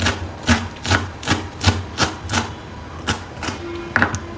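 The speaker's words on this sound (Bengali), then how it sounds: "ঠিক এইভাবে আমি ধনে পাতাটা কুচিয়ে নিলাম" Coriander leaves chopped with a knife on a board, a steady run of about ten crisp, close knocks spaced roughly half a second apart, with no talking.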